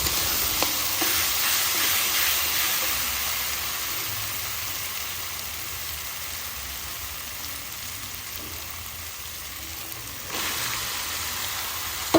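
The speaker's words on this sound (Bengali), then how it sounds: "ম্যারিনেশন করা মাটনটা আমি এবার কড়াইয়ে দিয়ে ভালো করে নাড়াচাড়া করে নেব যাতে ভালো করে কষে যায়" Mutton marinated in chili, turmeric, cumin and coriander powders with oil and salt sizzles loudly in a kadai for biryani while being stirred, a dense, continuous frying hiss with scraping that eases slightly midway, then picks up again near the end.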